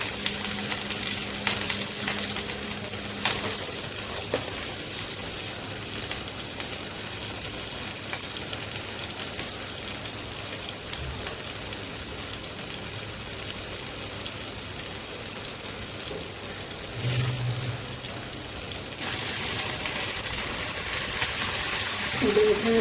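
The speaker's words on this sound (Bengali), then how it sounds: "দিয়ে দিচ্ছি কিছুটা বাটার তেলের মধ্যে। দিয়ে দিচ্ছি একটা তেজপাতা," Butter melting and sizzling in oil in a pan with a bay leaf, made while cooking a restaurant-style shahi paneer. A steady, rain-like frying crackle runs throughout at moderate level, with a few brief clinks.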